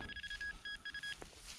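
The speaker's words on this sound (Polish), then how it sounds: "Tutaj mam sygnał na żelazo." A metal detector sounds its iron signal during a dig: a run of short, faint electronic beeps in a quick broken rhythm, then a brief lower blip as the tones stop.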